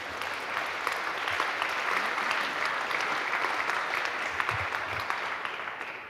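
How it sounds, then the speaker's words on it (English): Audience applause at a tech conference after a talk on modular development, a steady, even patter of clapping heard from a slight distance and continuing throughout with a few low thumps. "All right, round of applause, please, for Silke."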